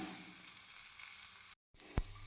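Curry leaves dropped into hot tempering oil crackle with a loud, dense sizzle that breaks off for a moment, then resumes with one sharp pop.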